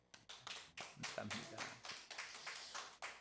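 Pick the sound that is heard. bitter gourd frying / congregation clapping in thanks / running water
congregation clapping in thanks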